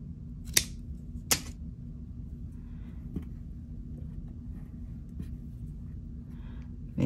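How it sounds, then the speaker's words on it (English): Two crisp snips of scissors cutting suede cord near the start, then faint tapping over a low background rumble. "I'm gonna angle this with my scissors."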